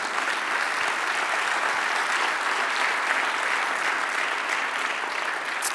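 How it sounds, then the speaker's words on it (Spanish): A church congregation applauding, dense and steady clapping from many hands filling the room at full volume without a break. "Dale otro aplauso al Señor."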